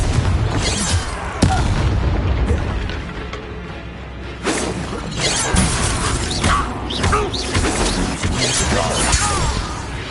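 Confringo blasting curse explosions in the Hogwarts Legacy video game, a dense barrage of loud blasts, crashes and whooshing bursts layered over game music, with sharp hits near the start and again midway.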